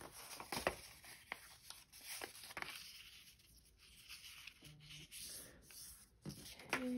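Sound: inking fold marks on journal paper by rubbing

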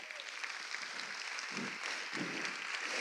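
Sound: audience applauding in theatre

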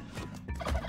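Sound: turkey gobbling in video game Spelunky 2

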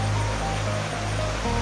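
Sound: water flowing down into a waterfall at Seven Wells, Langkawi

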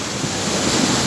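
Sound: sea waves on the Sea of Azov

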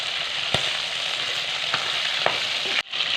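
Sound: Ritha fish frying in oil

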